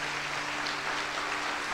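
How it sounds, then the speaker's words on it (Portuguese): A church congregation claps in dense, continuous applause, a steady wash of hand claps without talking over it. "Vamos aplaudir."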